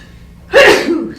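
A single sharp sneeze bursts out close by after a brief quiet moment, loud and breathy with a trailing exhale.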